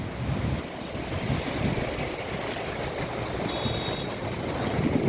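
Rainwater runoff after June rain rushes through a stream channel walled in with concrete in Vishrantwadi, a continuous loud broadband roar of flowing water with no pauses.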